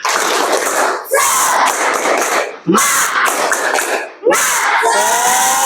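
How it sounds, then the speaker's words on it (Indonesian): Schoolchildren in a morning classroom shout a loud spirit clap chant in three energetic bursts, voices and rhythmic claps together, with brief pauses between rounds. "Kita tepuk semangat."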